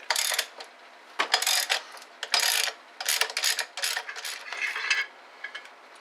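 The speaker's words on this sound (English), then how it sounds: "remove these 13mm bolts that hold down the intake horn and remove it" A ratchet takes out the 13mm bolts holding down the intake horn on a common rail Cummins engine, with bursts of rapid metallic clicking separated by short pauses, close and loud.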